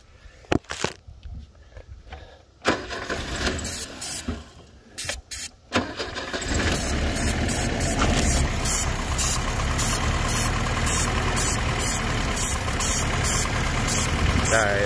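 Opel GT engine being cranked for its first start in 25 years, with uneven cranking bursts that catch and settle into a loud, rough, steady idle close by.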